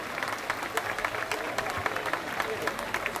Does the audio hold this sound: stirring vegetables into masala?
no